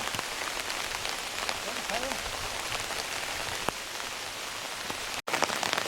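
Steady rain falls on a mountain trail at about 537 m elevation, a dense, even patter of drops close by with no one speaking.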